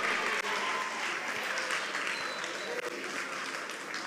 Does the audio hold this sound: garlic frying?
no